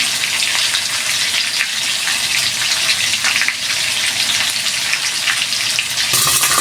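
Hot oil crackles and sizzles loudly and continuously after water is added, a dense spitting hiss that flares up again near the end.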